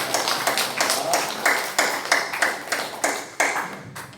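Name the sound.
congregation applauding in church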